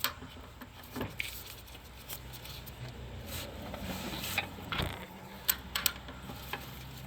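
A ratchet wrench turning a 19mm bolt at the rear of a 2014-2016 Kia Soul subframe during transmission work, with faint irregular clicks and metallic taps over a quiet workshop background.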